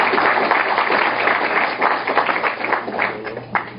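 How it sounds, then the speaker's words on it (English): Audience at an immigration conference claps for a speaker, a steady patter of many hands that thins and tapers toward the end, with no talking over it. "Let's give her a round of applause."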